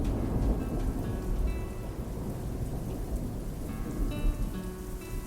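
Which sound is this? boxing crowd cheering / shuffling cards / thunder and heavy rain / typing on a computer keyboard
thunder and heavy rain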